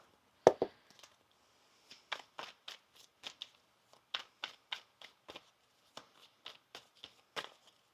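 Tarot cards are shuffled by hand in a quick series of crisp riffling flicks and snaps, close and clear, with short pauses between bursts.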